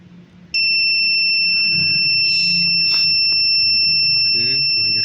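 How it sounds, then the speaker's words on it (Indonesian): A distance sensor's buzzer sounds a steady, piercing electronic tone that starts abruptly and holds continuously, with people talking faintly underneath. "Oke, buzzer sudah bunyi"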